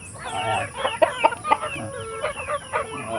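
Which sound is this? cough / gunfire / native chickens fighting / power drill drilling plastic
native chickens fighting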